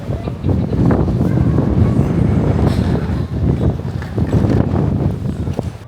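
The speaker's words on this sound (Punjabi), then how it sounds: "ਬਹੁਤ ਜ਼ਿਆਦਾ ਹਵਾ ਚੱਲਦੀ ਪਈ ਆ" Loud, gusty wind buffeting close to the microphone, roaring and rumbling in waves throughout, outdoors in Australia.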